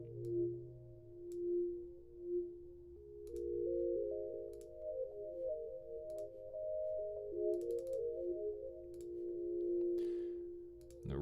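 Tones from the Hyperion modular synth VST with a slowed flanger, sustained pitched notes that step and waver slowly in a soft, continuous drone with faint clicks throughout.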